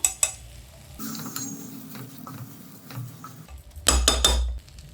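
Rice frying in a pan with a little turmeric for coconut milk rice, with sharp metal clinks of a spoon on the pan, gentle stirring scrapes and a light sizzle underneath.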